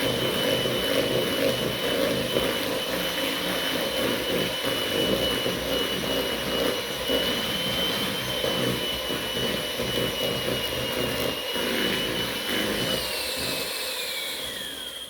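An electric whisk mixing cookie dough and making a funny noise, a steady loud mechanical whir with a thin high whine that slides downward near the end, running continuously with no talk.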